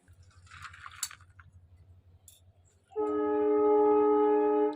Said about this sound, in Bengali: ট্রেন চলে আসলো, একটা ট্রেন